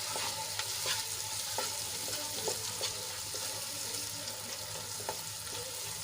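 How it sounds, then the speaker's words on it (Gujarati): Salt and garam masala powder get stirred and sautéed into a vegetable gravy in a pan, giving a steady close sizzle with periodic scraping strokes of the spoon and no talking. "મિક્સ કર્યા બાદ આપણે એને થોડીક વાર માટે સાંતળી લઈશું જેથી કરીને આપણા મસાલા સંતળાઈ જાય"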